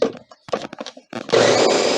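Ninja food processor motor whirring loudly as it mixes chocolate chip flax seed muffin batter with butter, starting abruptly after a few short pulses and running steadily to the end.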